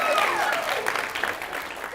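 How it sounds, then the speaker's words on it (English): An audience claps at a mayor's talk, a brief burst of dense, fairly close applause with a few voices mixed in. "yeah, let's clap for"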